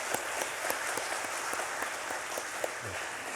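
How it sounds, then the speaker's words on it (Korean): A church congregation applauding during a Wednesday worship service, a dense, continuous roar of many people clapping together, with a few sharper claps poking through the steady wash and no speech. "우리 잠깐 일어서 주시고 우리 환영하고 사랑하는 박수 함께 하겠습니다."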